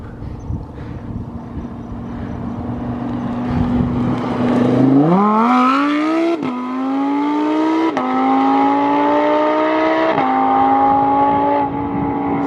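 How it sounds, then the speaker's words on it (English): A Lamborghini Huracan and a Ford Lightning electric pickup accelerate hard from a 20 mph roll in a drag race, a loud rising engine howl climbing through several sharp gear shifts, close then pulling away, with no talk. "once they pass me, they're gonna gun it"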